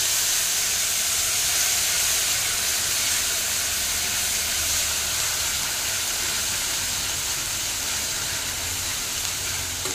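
Onion paste sizzles in hot oil left from frying hilsa fish, a steady, loud, broadband hiss that continues evenly without pause.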